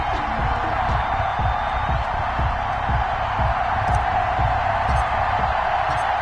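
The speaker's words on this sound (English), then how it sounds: "This crowd is ready as their guys get set to match up between the Cleveland Browns and the Baltimore Ravens" NFL stadium crowd in an EA Sports football game ahead of a Cleveland Browns versus Baltimore Ravens matchup, a constant distant roar of cheering with repeated low rhythmic thumps running under it and no break in the noise.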